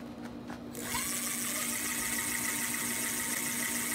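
Electric motor of a children's ride-on vehicle whirs up when the pedal is pressed, a steady buzzing hum starting abruptly after a quiet moment and holding indoors.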